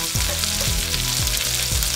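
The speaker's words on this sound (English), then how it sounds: "Add the onions." Onions sizzle and crackle steadily in hot cooking oil for a pork blood stew, a dense continuous frying hiss with a few low stirring thumps, close and fairly loud, with no talking.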